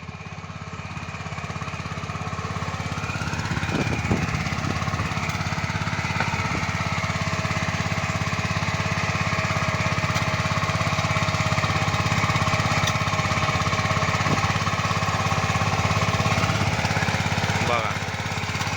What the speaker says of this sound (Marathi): ही ट्रॅक्टरद्वारे आपली खांदणी कशी आहे हा पॉवर ट्रेलर ट्रॅक्टर आहे